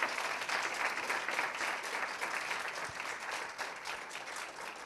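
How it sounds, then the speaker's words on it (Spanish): Audience at a disability symposium breaks into sustained applause, a dense, even clapping that carries steadily and fairly softly for the whole stretch without talk. "Un fuerte aplauso para ellos, por favor."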